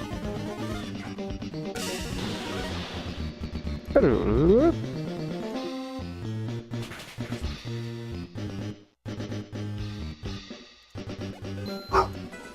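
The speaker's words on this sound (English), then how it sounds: "Stop barking, boy." A dog barks several times over a busy soundtrack of the online Pokémon game P.R.O, with chiming music and effects, the barks loud and close in the mix.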